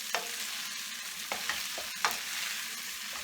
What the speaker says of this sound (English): what I'm going to do is toss them so that they get nicely coated with the oil and the sesame seeds and the mustard seeds